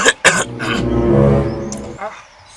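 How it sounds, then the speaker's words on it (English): An exaggerated, theatrical old man's cough: a few sharp barks followed by a long, rasping, voiced drawn-out hack, loud and close. "Which kind of cough be that?"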